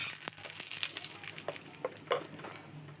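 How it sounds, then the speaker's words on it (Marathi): Curry leaves and mustard seeds tempering in hot oil for chutney, giving a soft, crackly sizzle with scattered pops and stirring scrapes, faint and close. "तर आपण याला फोडणी देऊया कढीपत्ता आणि मोहरीची"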